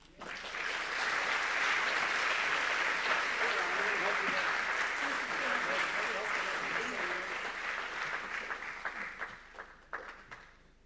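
An audience at an awards ceremony honouring recovery recipients applauds steadily, a full sustained wave of clapping that swells quickly, holds, then fades into scattered claps near the end.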